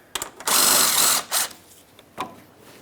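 Ratchet backing out an 8 mm bolt from the inner fender liner of a 2012-2015 Honda Civic: a few short close clicking bursts, one longer buzzing run in the middle, then scattered single clicks.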